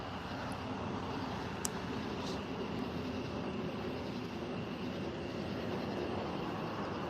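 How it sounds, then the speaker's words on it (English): An airplane passes right above a house at night, likely climbing out of Charlotte Douglas and heading north, heard as a faint, steady, broad roar that holds evenly throughout with no talk. "There's an airplane flying right above the house."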